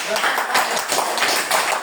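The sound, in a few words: classroom applause for a group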